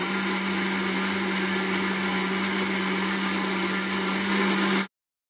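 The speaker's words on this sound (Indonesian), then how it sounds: "lalu kemudian kita blender lagi." A blender whirs steadily at close range with a constant motor hum while blending white guava juice with sugar and milk, running for about five seconds and then cutting off abruptly.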